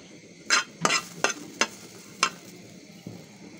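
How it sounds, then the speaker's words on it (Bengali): Garlic frying in oil in a pan, with a low steady sizzle broken by several sharp utensil scrapes and stirring clicks spaced irregularly, close and fairly quiet. "রসুনটা ভেজে নেব।"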